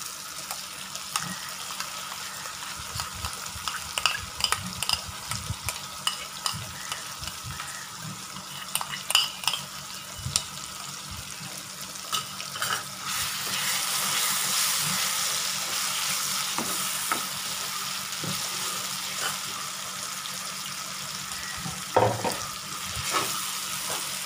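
Roasted chili-coriander paste fries for a Chettinad fish curry, a steady close sizzle with stirring scrapes and occasional clinks of a utensil against the pan, sometimes louder bursts of spattering, with no talking.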